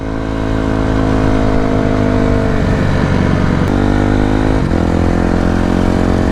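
Honda CBR1000 sport motorcycle with a blown-up engine, still running: a loud, steady idle rumble right up close, with brief dips and small throttle changes partway through and no talking.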